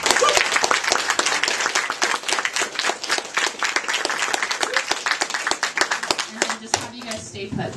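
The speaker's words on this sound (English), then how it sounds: "let's give them another round of applause" An audience at a Diablo 3 Book of Cain signing at Book Soup in Los Angeles applauds loudly, dense clapping that keeps going before thinning out and fading near the end.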